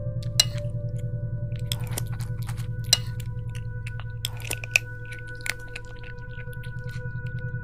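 A chewing sound effect in a Tagalog horror narration, wet rhythmic mastication repeating steadily under a low droning tone, with a few sharper crunchy bites standing out.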